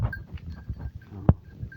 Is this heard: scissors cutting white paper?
no